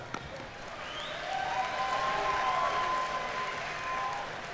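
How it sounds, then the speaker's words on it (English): A fight-event crowd gives applause for welterweight fighter Rory MacDonald, a steady wash of clapping and cheering that swells after the first second and holds fairly evenly to the end, with faint talk and whistles mixed in. "So hand of applause for Rory."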